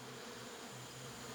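A dense, steady buzzing of over 80,000 Africanized honeybees at a massive hive in Brazil, a low droning hum that holds evenly throughout, quiet and close.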